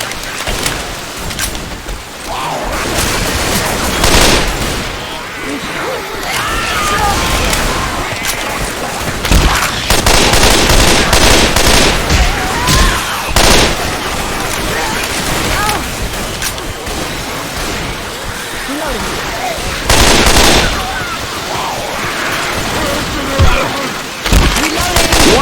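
Dense gunfire fills a Left 4 Dead 2 firefight, continuous bursts and booms layered over rain-like noise throughout, with louder volleys around the middle and near the end, and voices faintly mixed in.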